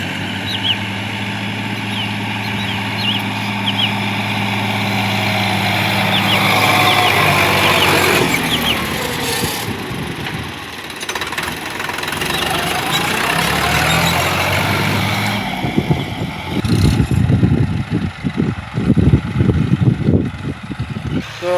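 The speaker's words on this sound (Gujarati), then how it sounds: "આપણે જીવનની અંદર પહેલી વાર પલાવ ટ્રેક્ટર ચલાવ્યું છે" A tractor engine runs loudly nearby, its steady drone dipping and rising in load before giving way to rougher, choppy knocking near the end.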